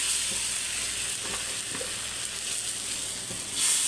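Rice tipped into a hot pan sizzles and fries steadily, a continuous bright hiss with small crackles and a brief swell near the end, with no voices.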